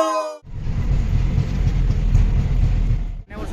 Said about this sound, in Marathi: आता ट्रेन पकडलो आणि जातो आम्ही जुईनगर का